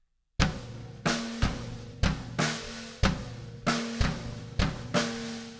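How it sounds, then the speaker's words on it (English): A drum kit plays a steady groove, with a punchy bass drum and sharp snare hits landing in a repeating syncopated pattern, each strike ringing and decaying before the next, close and clear with no talking. "The next groove, we have our bass on 1, then the and of 2 and the and of 3, snare on beats 2 and 4."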